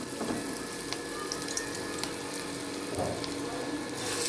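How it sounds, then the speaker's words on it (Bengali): Potato peel fritter batter dropped into hot oil, giving a loud, close, even crackling sizzle with a few faint knocks of a utensil, no voices. "তেল গরম হয়ে গেছে, এটা মাখা হয়ে গেছে। এবার আস্তে আস্তে করে বড়ার মুখটি ছেড়ে দিচ্ছি"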